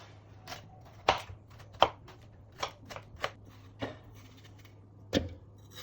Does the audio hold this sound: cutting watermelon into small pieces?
yes